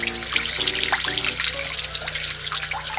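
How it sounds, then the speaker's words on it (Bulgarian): Tap water runs steadily into a sink while a bonito is being cleaned and its gills removed, a continuous close hissing splash with faint clinks, no voices. "Така и пускаме водата."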